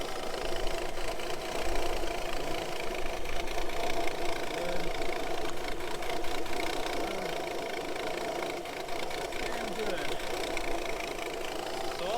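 A car engine idles steadily up close, its even mid-pitched hum running through the whole stretch while ignition coils are unplugged one by one to check for a misfire.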